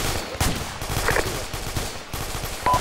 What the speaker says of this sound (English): Under very heavy fire at the moment.